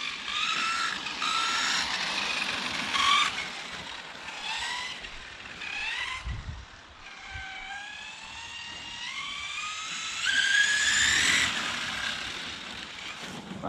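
FG 4x2 radio-controlled car whining through a run on a slippery track, its high motor pitch climbing and dropping repeatedly through corners, with no one talking.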